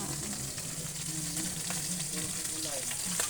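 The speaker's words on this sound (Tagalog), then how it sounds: "Pipritong panira." Continuous crackling sizzle of fish frying in a pan, with faint background voices and occasional clinks throughout.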